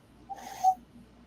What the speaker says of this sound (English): It's a really loud whistle.